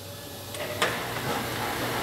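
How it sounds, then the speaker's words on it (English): A steady mechanical hum and hiss of a vacuum pump running continuously during mold setup, with a couple of faint clicks early on. "you can go ahead and turn your vacuum pump on"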